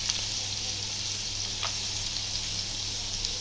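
Chopped onion frying in ghee, a steady close sizzle with occasional soft stirring scrapes and small pops.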